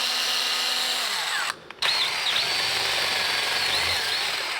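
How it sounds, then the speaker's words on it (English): A power drill bores into intake manifold gasket material, whirring steadily and loudly throughout with one brief pause where the motor cuts out and then spins back up. "let me show you what happens when you try and drill this stuff"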